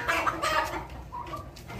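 Turkeys cluck and call nearby, several birds overlapping against a steady outdoor background.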